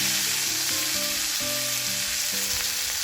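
A T-bone steak frying in a pan gives a loud, steady sizzle that holds evenly for about three seconds, with faint tonal clinks underneath and no voices.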